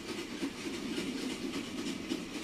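A steady rumbling train in the video game The Final Station runs continuously with a broad hiss and faint rhythmic clatter, loud and close, no voices.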